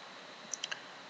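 Three quick, light clicks of a computer mouse at a desk while working in GameMaker, close and isolated over faint room noise, no talking.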